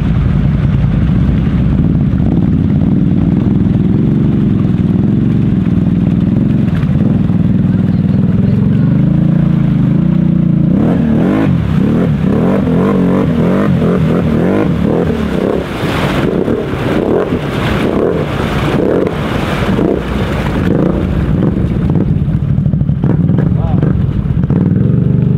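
Dane's big bike, an ATV, revs its engine hard through a deep mud hole at an off-road park, a loud, continuous roar with rising and falling pitch, buffeted by wind noise and splashing toward the end.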